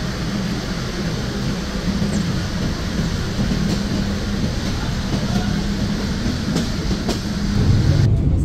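A passenger train pulls out of Kotchandpur railway station in Bangladesh, its steady rolling rumble and faint rail clatter heard from aboard, continuous and fairly loud, swelling slightly near the end.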